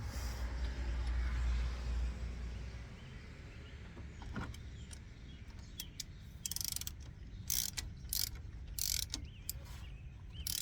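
A ratchet and socket at work on a 1996 Chevy Suburban, with short bursts of clicking and metallic handling noises close by in the second half, over a steady low background hum.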